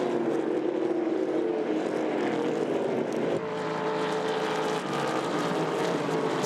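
Trans Am Series race cars at a 2021 race in Sydney roar together in a dense, sustained engine drone, a loud pack passing without any talk.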